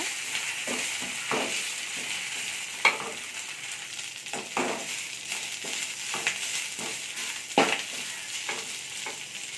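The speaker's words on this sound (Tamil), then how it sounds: "சேர்த்து நல்லா வதக்கிக்கலாம்" Drumstick (moringa) leaves being sautéed in a pan for a village-style thuvaiyal, giving a steady sizzle broken by intermittent scraping stir strokes, close and moderately loud with no talking.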